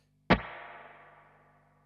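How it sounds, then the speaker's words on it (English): Single electric guitar strum sent through the spring reverb of a handwired Bad Cat Cub V amp, with a sharp attack and a long splashy analog tail that decays slowly over more than a second, heard alone. "proper spring reverb is now in this amp"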